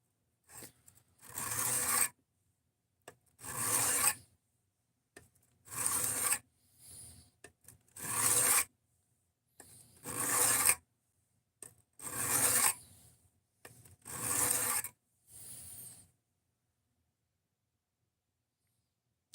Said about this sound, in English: we're on 200 grit right now, and this thing is just crap steel, so it's gonna be hogging off material fast